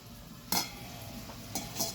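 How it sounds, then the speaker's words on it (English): Soft sizzling of garlic butter in a pan with a few sharp clinks of a utensil against metal, no talking. "got my garlic butter sizzling"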